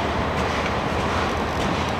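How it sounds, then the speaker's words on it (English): Train rolling along the railway in Washington, a BNSF line, with a steady dense rumble and broad rail noise filling the whole two seconds, close and continuous with no voices. "I'll be heading home on this train"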